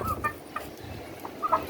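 Backyard chickens kept in a pen on a home rooftop cluck in short, scattered bursts, fairly close, over a steady low background hum.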